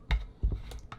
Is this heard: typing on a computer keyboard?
yes